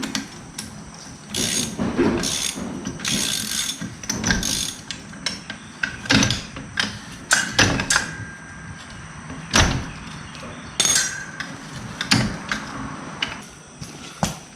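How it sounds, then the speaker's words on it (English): A ratchet snugs down a nut on a tractor with a series of sharp clicking and clunking bursts, close by and irregular, over a quiet background. "Now I'll snug the nut down"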